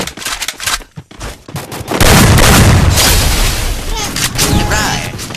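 Gunfire in a shooter video game: scattered gunshots at first, then a dense, loud stretch of sustained automatic fire and booming blasts that continues to the end of the clip.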